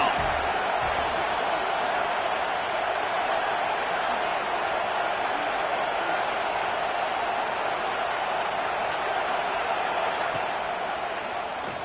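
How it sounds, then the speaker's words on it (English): A home crowd in a football stadium roars steadily as the defense tries to get off the field on third down. The roar is a dense, sustained, distant wash of crowd noise with no clear breaks. "This home crowd as the defense tries to get off the field on 3rd down."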